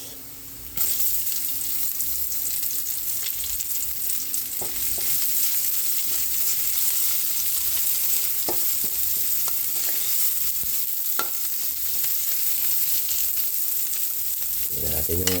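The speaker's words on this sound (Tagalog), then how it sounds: "Magkigisa na po tayo. Bawang." Garlic and onion frying in a pan for a home-cooked meal, a steady close sizzle lasting throughout with occasional clicks of stirring utensils against the pan.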